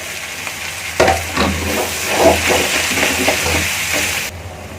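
Chopped shallots and onions sauté for a squid roast, a steady close sizzle with repeated scraping stirs against the pan, fairly loud and without voices.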